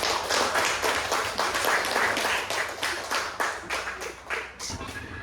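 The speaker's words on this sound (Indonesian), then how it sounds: "Mari kita beri tepuk tangan untuk kita semua." A class of students applauds after a lesson activity, a dense, steady patter of many hands clapping at once, moderately loud and sustained for several seconds with no voices standing out.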